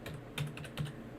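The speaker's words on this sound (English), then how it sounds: "Oh, I'm typing and it's not going anywhere." Typing on a computer keyboard during a live trading stream, a quick run of clicky keystrokes with two heavier taps, close and alone without talk.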